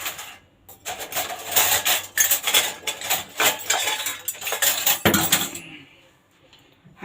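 A metal spoon clinks and scrapes against dishes beside a homemade salad, a busy, close clatter of rapid knocks lasting about five seconds before fading to quiet.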